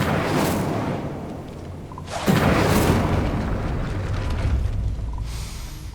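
A fiery spell blast from Hogwarts Legacy erupts with a loud whooshing boom that swells and lingers for a few seconds before fading into a steady rumble.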